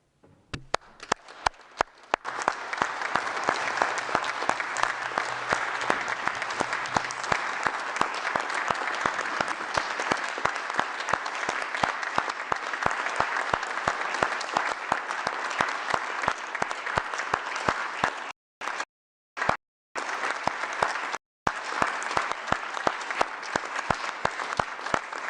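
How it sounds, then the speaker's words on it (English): A crowd at the World Health Assembly gives sustained loud applause for health workers, with dense clapping and some shouting that continues almost unbroken for about twenty-five seconds, broken only by a few brief gaps near the end. "Please join me in clapping, shouting, and stamping your feet for every health and care worker"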